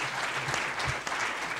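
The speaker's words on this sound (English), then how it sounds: "give another round of applause to the panel right quick." Audience applause for a panel at a Village Square forum on Florida's FCAT and Common Core, a brief burst of dense clapping from a room full of people.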